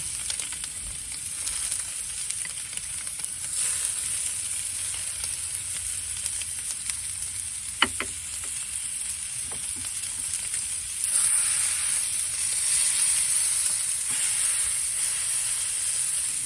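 A tri-tip steak sears on a cast iron surface inside a Big Green Egg ceramic grill, giving a steady, even hiss that holds throughout, broken by a few faint clicks and a slightly fuller sizzle toward the end.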